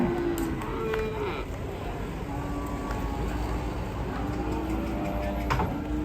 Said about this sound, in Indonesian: Itu bantengnya.